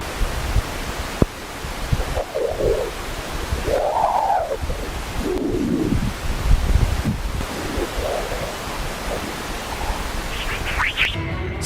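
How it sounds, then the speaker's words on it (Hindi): Faint whistling chirps and swooping tones from sonified solar wind dispersive waves drift over a constant hiss, with a few quick rising chirps near the end. "अभी जो आपने चहचहाट की ऑडियो सुनी, वो सोलर विंड से निकलने वाली एक खास डिस्पर्सिव वेव्स की निकलने वाली आवाज है।"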